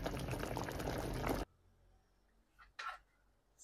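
Pork adobo with pineapple juice bubbling in a pan: a loud, dense sizzling simmer that cuts off abruptly, followed by quieter scattered bubbling and a couple of brief clatters.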